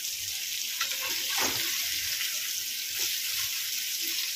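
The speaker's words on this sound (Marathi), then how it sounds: "आता या साईडने पण आपण मस्त व्यवस्थित फ्राय करून घेऊया" Pomfret fish fry in a pan with a steady, bright hiss of oil that holds evenly throughout, a few faint clinks underneath.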